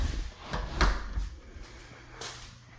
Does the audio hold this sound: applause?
no